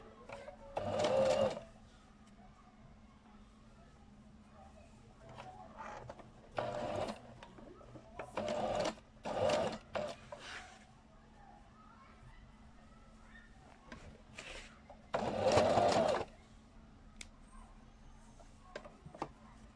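A sewing machine stitches strips cut from old T-shirts into a rug in several short bursts of rapid whirring, separated by quiet pauses with faint background noise.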